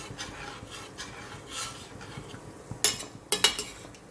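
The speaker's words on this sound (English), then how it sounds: "just mix it up a little bit" Water is stirred into a pot of chicken ghee roast, with soft scraping and swishing strokes of a utensil, then two sharper metallic clinks against the pot near the end.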